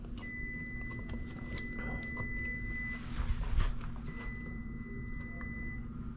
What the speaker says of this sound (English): You can hear it on the meter ringing out.